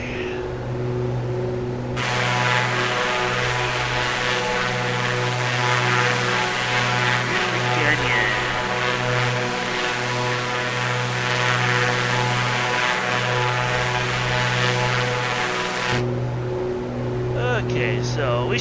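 A propeller aircraft engine drones loud and steady in Flight Simulator 2024, a constant tonal hum with harmonic layers that swells in brightness for most of the stretch before easing back.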